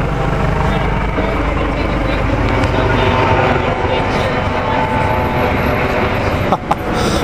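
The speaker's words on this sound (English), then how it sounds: "Getting bombed by helicopters since I've been here." A helicopter flies overhead in Washington, D.C., producing a constant, heavy low rumble that fills the whole stretch at a steady, loud level.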